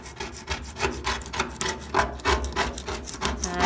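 Scraping old paint off a vintage car after softening it with Goof Off paint stripper: repeated rasping strokes in an uneven rhythm, close and moderately loud, with no voices.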